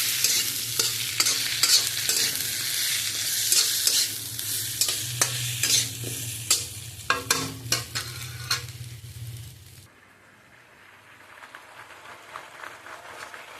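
Spice paste frying in hot oil in a pan with a spatula stirring and scraping in quick repeated strokes over a steady sizzle, close and loud, then cutting to a quieter faint hiss.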